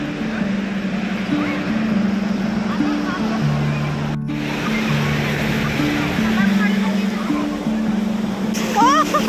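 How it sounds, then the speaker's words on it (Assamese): Sea waves at the beach in Puri on the Bay of Bengal make a loud, continuous roar of surf, with steady tonal music layered over it throughout. "ফাইনেলি সাগৰ ববত আহি পালোঁ, বে অফ বেংগল"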